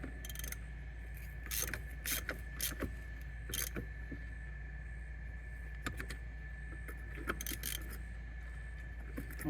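A bolt is retightened by hand with a socket from a VEVOR heavy-duty 1/2-inch impact socket set, giving faint, quiet ratcheting clicks in short, irregular bursts over a low steady hum.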